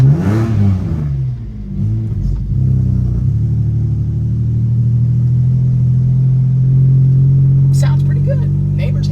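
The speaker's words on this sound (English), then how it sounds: "gotta get a little rev bomb in every so often" Straight-piped Dodge Dakota pickup engine blipped loudly near the start, then settling into a steady, deep rumbling idle or cruise that holds through the rest, with a voice speaking briefly over the first seconds.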